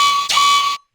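A main synth for a bass house track in Ableton sounds one short, bright, buzzy sustained note with a slight swell partway through, held under a second before cutting off cleanly into silence.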